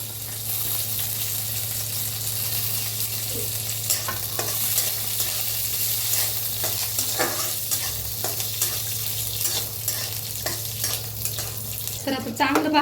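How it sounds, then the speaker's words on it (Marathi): Peanuts, garlic and green chillies roast in a pan, giving a steady sizzle with frequent scraping and rattling stirs over a constant low hum throughout, and no talk. "तर आता चांगलं भाजलेलं आहे शेंगदाणा, लसूण, हिरवी मिरची काढून घेऊया"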